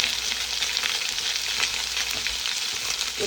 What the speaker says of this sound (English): We're gonna throw this in the skillet, stir this up for a few minutes